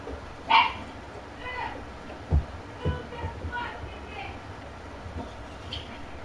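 A dog gives a few scattered barks and yips, then softer whimpers, spread over several seconds at moderate volume against background noise.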